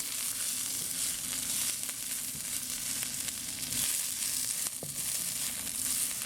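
Shrimp sizzling in a hot pan with a teaspoon of ginger, a steady bright frying hiss throughout with a few scraping stirs, close and moderately loud with no talking.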